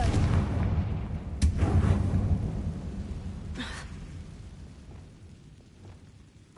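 A Confringo spell explosion in Hogwarts Legacy lands as a deep rumbling boom that rolls and slowly fades, with a couple of sharp cracks over a dense low roar.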